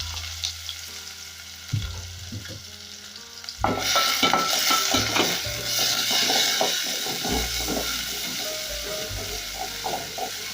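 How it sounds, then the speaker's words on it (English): Onions hitting about two tablespoons of hot cooking oil for a thick ndengu curry, a loud sizzle bursting in a few seconds after quiet clatter, then a steady crackling fry with stirring scrapes and clinks. "I'm going to cook my onions"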